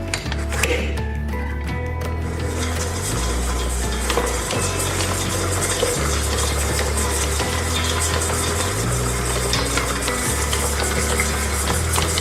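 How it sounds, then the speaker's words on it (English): A stand mixer motor hums steadily as dry ingredients for peanut butter crunch rattle and clink inside the bowl, the low drone shifting pitch in repeating steps, loud and close. "mix all the dry ingredients up in the machine bowl"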